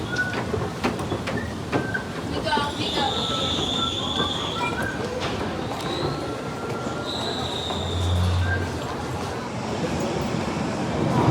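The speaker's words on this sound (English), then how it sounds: "a 1972 stock train rolls in on camera" A London Underground 1972 stock train rolls into the Bakerloo line platform at Oxford Circus, a rumbling approach with squealing wheels and brake hiss echoing in the station, a voice speaking briefly over the noise.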